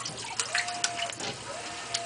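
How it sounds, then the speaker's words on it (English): A GE Hotpoint washing machine fills with water, giving a soft, steady rush of running water with faint sloshing and small knocks, heard fairly quietly from close by. "It's doing an agitation here, medium agitation. After the water is full all the way."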